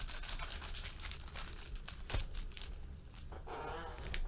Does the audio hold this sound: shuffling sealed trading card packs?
yes